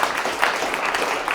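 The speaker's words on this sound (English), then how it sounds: "Round of applause for Homeboy." Audience applause at a creators' business practicum, dense steady clapping filling the whole short stretch at an even level with no speech over it.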